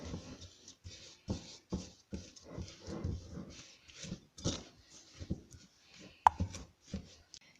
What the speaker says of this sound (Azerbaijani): Və şəkər tozu ilə yağı əzib qatırıq.